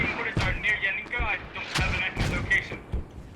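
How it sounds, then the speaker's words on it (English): Mortar rounds fire and land in the video game Squad, heavy thuds and booms repeating every half second or so under a steady high tone, with a voice talking in the mix. "we see mortars on both teams now going down"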